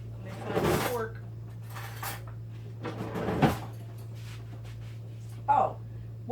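Someone rummages in a kitchen drawer for a fork, with a few bursts of rattling cutlery and a drawer scrape over a steady low hum, no voices.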